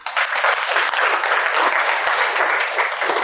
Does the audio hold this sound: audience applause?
yes